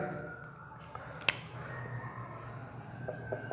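A theorem's given being written out: faint scratchy writing strokes and a sharp tap under a man's quiet speech, with a steady low hum in the background.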